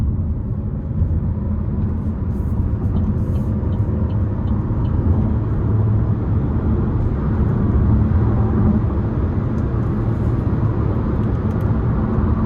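A 2026 Buick Encore GX Preferred with the 1.3-litre turbo engine pulls hard under strong but not full throttle, giving a steady, loud low engine drone and road rumble that holds evenly throughout from inside the cabin.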